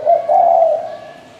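A spotted dove gives a single close, clear cooing phrase, a soft low hooting note that swells and then fades away.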